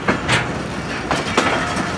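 Train running on a Pakistan Railways track near a loop line, a continuous rumble with rhythmic clattering wheel noise and a few sharper accents, close and loud with no voices.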